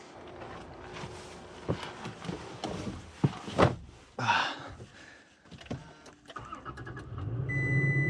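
A pickup truck engine idles and revs nearby, its rumble rising steadily toward the end amid clunks and mechanical whirring.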